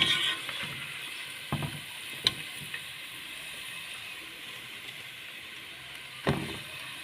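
Onions frying in oil in a single pot while making Egyptian koshari, a steady soft sizzle with a few faint clinks and knocks over the top.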